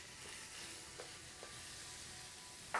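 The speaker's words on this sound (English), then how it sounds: "And to this, we're going to add our minced pork. And let all these flavors fry together" Minced pork frying in a pan with chilies and other flavorings sizzles as a faint, steady hiss, broken by a few light taps of stirring and a sharper clink at the very end.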